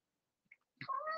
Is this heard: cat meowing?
yes